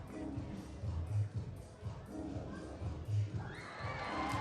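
A gymnastics crowd at the Varna World Challenge Cup reacts to Eddie Penev's score with a rumbling murmur that swells into cheers and shouts, sustained and moderately distant over a few seconds.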